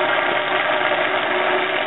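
Aquarium sump pumps running without mufflers, a loud, constant mechanical hum and whir that stays steady and close with no other sounds.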